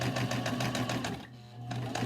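A sewing machine stitches a seam on a fabric face mask, its needle chattering in a fast, even rhythm at close range, pausing briefly before resuming.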